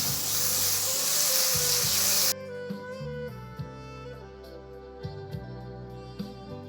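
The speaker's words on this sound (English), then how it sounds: "Now let's give a fry for 2 minutes." Squid pieces frying in a pan with turmeric powder and salt, a bright loud sizzle at first that cuts to a quieter hiss with music and occasional stirring knocks.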